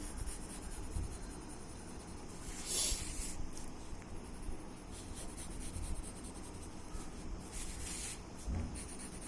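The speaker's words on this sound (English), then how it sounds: "I'm just going to go ahead and add a little bit of graphite around the corners here" A graphite pencil lightly shading around the corners of a paper drawing, a faint, soft continuous scratching with a few brief stronger strokes, quiet and close.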